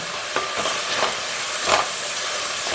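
Onions fry in oil over high heat with a loud, continuous crackling sizzle, broken by several stirring scrapes and spatula knocks against the pan, close and with no voices.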